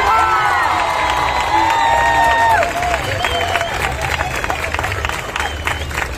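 Rally crowd at a diversity march cheering and shouting, loud and close at first with voices and whoops, then settling into a steady roar of cheers and chatter.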